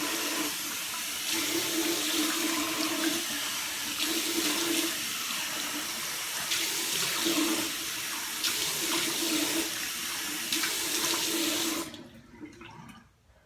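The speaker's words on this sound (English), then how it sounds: "And I just lean down into the sink, of course, and rinse my face." Water runs from a bathroom sink tap as a face is rinsed, a steady close splashing hiss with small shifts as hands move, then the flow cuts off near the end.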